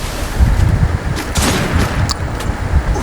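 Gunfire in a shooter video game with sniper play, a dense rumbling barrage of shots and booms, several sharper cracks standing out over continuous low noise, no voices.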